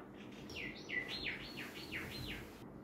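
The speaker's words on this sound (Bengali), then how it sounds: "পাখির শব্দ, পাখি পাখি" A small bird gives a quick series of about six falling whistled chirps, faint and somewhat distant over steady outdoor background noise at a campsite by Dighi Nala lake in Khagrachari.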